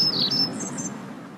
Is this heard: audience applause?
no